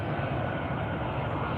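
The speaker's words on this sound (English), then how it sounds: "the sound that these 4 engines are going to make as she touches down on runway 3 right over Tambo International Airport" Four-engine airliner touching down on runway 3 right at OR Tambo International Airport, a steady, loud broadband engine roar filling the whole stretch without letup.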